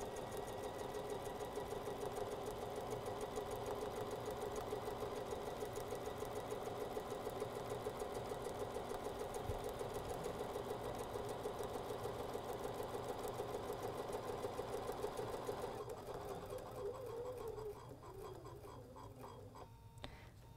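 A sewing machine stitches quilt fabric with a quarter-inch seam, running steadily with a fast, even mechanical rattle for about seventeen seconds before slowing and stopping.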